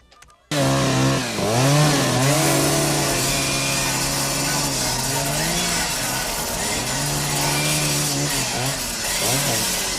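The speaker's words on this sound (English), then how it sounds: "He cuts these power lines with a chainsaw" A chainsaw engine roars loudly and steadily after a brief quiet start, its pitch dipping and rising as it bites and revs through power lines.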